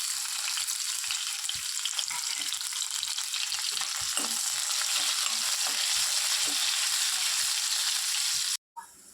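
Green chillies, chopped onions and tempering seeds fry in hot oil in a pan, giving a loud, continuous, crackling sizzle that stays close and steady, then cuts off abruptly near the end.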